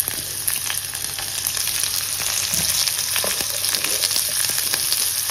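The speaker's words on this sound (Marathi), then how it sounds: "आता कांदा सोनेरी कलर येईपर्यंत भाजून घेऊया" Onion and garlic paste sizzles steadily in a pan as the base of a spicy red papdi vegetable curry, with a dense, even frying hiss and a few faint stirring clinks, no voices.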